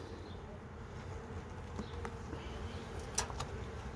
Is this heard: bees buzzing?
yes